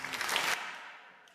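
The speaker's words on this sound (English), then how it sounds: "That's a clap there." Applause bursts out from a school event audience for about half a second, dense and bright, then cuts off and trails into a faint room tail.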